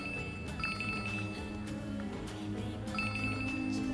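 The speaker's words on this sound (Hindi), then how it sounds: "ओहो, ये फोन भी नहीं उठा रही है।" A telephone rings unanswered in a Hindi-dubbed South Indian movie, two short trilling bursts of electronic ringing separated by a pause, fairly quiet over background sound.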